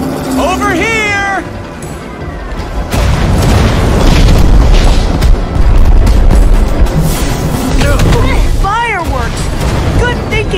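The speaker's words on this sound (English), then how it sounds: "Fireworks! Good thinking, Lucas!" Fireworks bursting in the Minecraft Story Mode game during a fight with the Wither Storm, loud booming blasts running under game music and voices, with a cat-like meow sound near the start.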